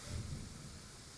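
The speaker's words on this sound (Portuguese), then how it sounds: "Que bênção essa chuva aí, ó." Rain falls outside as a steady, broad wash of noise, with a low rumble at the start that fades into the continuous patter.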